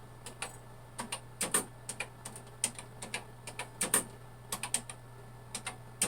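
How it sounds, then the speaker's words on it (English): Typing on a restored Commodore PET 4016 keyboard, a quiet run of irregular mechanical key clicks, close and distinct, over a low steady hum. "Do a little typing test here."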